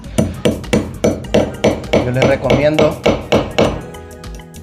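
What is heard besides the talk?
hammer tapping a small nail into the wall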